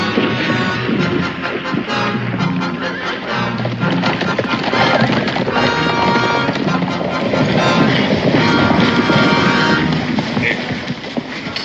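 Horse hooves clatter along with whinnying amid a loud, dense mix of commotion and distant voices in a 1969 Western television drama.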